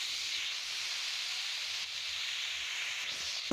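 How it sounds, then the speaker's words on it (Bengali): Chopped onion and tomato sizzle together in hot oil in a pan, a close, continuous frying hiss with no pauses and no voices. "আমি এখানে পেঁয়াজ আর টমেটোটা দিয়ে একসাথে আমি তেলের মধ্যে ভাজা করে নিতেছি।"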